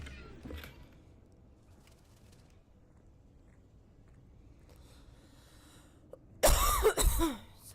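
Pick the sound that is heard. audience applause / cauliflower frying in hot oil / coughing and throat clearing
coughing and throat clearing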